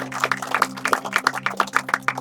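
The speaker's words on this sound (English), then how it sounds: "So if we just can have a nice round of applause for all those people that we're talking about." Applause from a small group at a school greenhouse project celebration at Tipton, with distinct rhythmic hand claps over a steady low electrical hum, moderately close.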